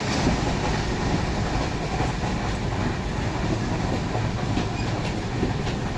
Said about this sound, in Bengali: আমাদের ট্রেন রয়েছে পাটনা ইন্দোর এক্সপ্রেস